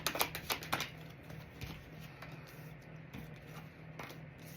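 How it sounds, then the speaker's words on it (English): Tarot cards shuffled by hand at close range, a flurry of quick riffling flicks at the start, then softer intermittent card shuffling over a faint steady background hum. "Shuffling here."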